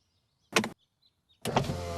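Electric roof of a convertible car lowering after a button press, heard as two short, loud motor whirs separated by a brief pause, with no talking.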